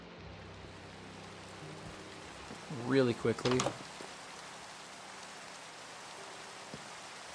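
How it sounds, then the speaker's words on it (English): Steady rain falling in the video game Minecraft, a soft continuous hiss that runs through the whole stretch, with a brief burst of speech over it partway through. "I hear it raining"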